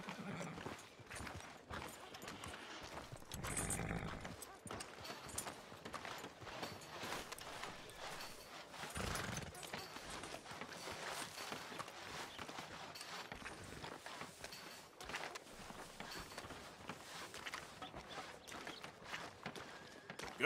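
A horse in Red Dead Redemption 2 walks with faint, soft hoof clip-clops in a game street scene, with a brief snort or whinny and quiet background ambience, all fairly distant and low in level.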